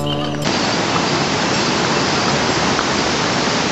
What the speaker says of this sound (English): There were so many fountains and waterfalls on the way